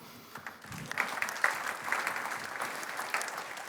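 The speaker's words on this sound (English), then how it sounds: "please give a round of applause for Coach Joins." Audience applause at the 2024 WILLCOs awards ceremony, a moderate, steady wash of clapping from a room of people that swells briefly and then holds without any talk.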